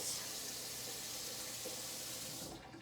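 A Norwex cleaning cloth is rinsed under a hot running tap at a sink, making a continuous full splashing gush that fades out at the very end, with no speech.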